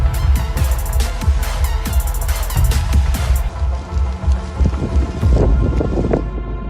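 A raging storm sweeps across California with heavy wind buffeting the microphone, rushing rain and low rumbling gusts, loud and turbulent throughout.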